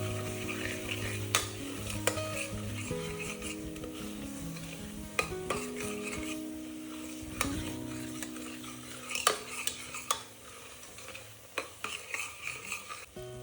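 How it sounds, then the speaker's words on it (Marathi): Mutton masala of onion-garlic paste, red chili, black masala and turmeric sautés in hot oil with a steady sizzle, broken by repeated scraping and clinking of a spoon stirring against the pan. "मिक्स करून घ्यायचं आणि तेल सुटेपर्यंत हे सुद्धा परतून घ्यायचं"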